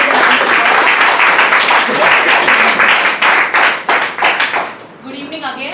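Audience at a speech club meeting claps loudly, individual claps distinct and rhythmic, then thins and fades out near the end as a voice begins speaking.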